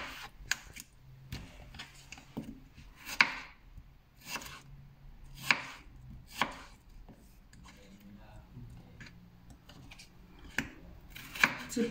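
Potatoes are cut into chips with a knife on a board, producing a series of sharp, irregular chopping knocks close by over a quiet background.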